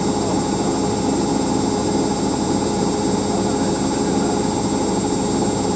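A Dometic WMD1050 compact washing machine, an Electrolux-made unit, spinning at speed with a loud, steady, close whirring drone and high whine, unbroken throughout.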